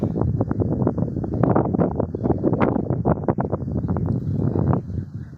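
Gusty wind buffets the microphone in a continuous, rough rumble with rapid flutters, loud and close, with no voices heard.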